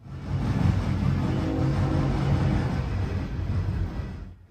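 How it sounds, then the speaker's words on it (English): A southbound CSX coal train rolls past a railroad interlocking tower on the C&O line, a steady low rumble and rattle of heavy cars holding for several seconds before dropping away at the end. "The first train we OS'd at AC Tower was a southbound CSX coal train running"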